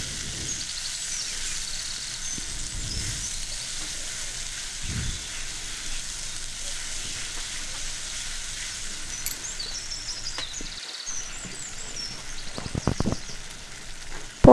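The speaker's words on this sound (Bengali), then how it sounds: "শুকনো লঙ্কা বাটা মশলাটা দিয়ে দিচ্ছি। ভালো করে কষে নেব মশলাটা।" A paste of dry red chilli, ginger and spices fries in a pan, making a soft continuous sizzle with occasional sharper stirring scrapes near the end, quiet and close, with no speech.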